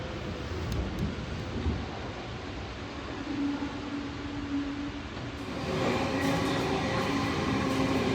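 A VSET passenger train rumbles steadily along the tracks, a continuous low roar with rattling that grows louder and brighter toward the end, heard from on board.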